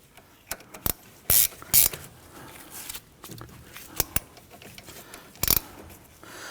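A hand ratchet snugs bolts on the front CV axle of a 2011-2015 Kia Sorento, giving scattered sharp clicking bursts, some louder rapid runs and single clicks, close up with quiet gaps between.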